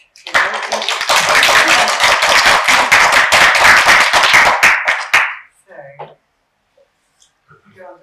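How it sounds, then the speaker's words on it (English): Close, crisp applause from a small audience at a community talk, a burst of clapping lasting about five seconds that stops abruptly, followed by brief speech and quiet. "So a round of applause"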